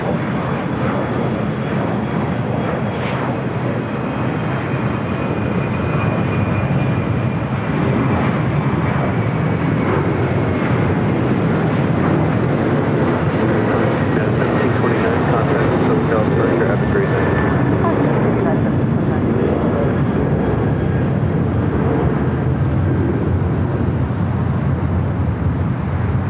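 United Airlines jet at LAX taxiing and crossing a runway, a steady loud engine drone holding throughout with a high whine, while a voice talks over it.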